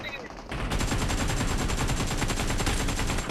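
Rapid automatic gunfire in PUBG Mobile bursts in after a brief moment, a dense, continuous rattle of shots that stays loud throughout.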